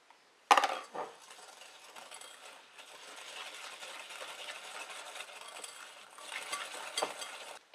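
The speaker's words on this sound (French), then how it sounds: "vous mélangez avec le sucre roux" Egg yolks and brown sugar are whisked together in a bowl for tiramisu, a soft, steady scraping and stirring after a sharp clink against the bowl, fairly quiet and without talk.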